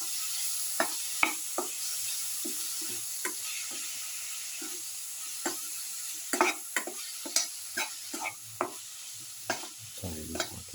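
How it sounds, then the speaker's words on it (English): Okra mixture sautéing in a hot pan for a garlic okra tomato stew, giving a steady soft sizzle with repeated light utensil scrapes and taps, close and moderately quiet, no talk. "Sauteing for 3 to 4 minutes."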